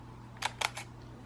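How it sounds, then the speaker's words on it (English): A single-lens reflex camera fires at a slow shutter speed in low light: a crisp mechanical clack, a short gap, then a second clack with a faint trailing click, close and isolated against quiet room tone. "it's in focus even at that slow a shutter as it sounded"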